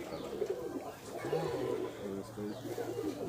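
A pair of Rajshahi local Giribaz pigeons coo in low, rolling bursts, close by, with a person talking over them for much of the time.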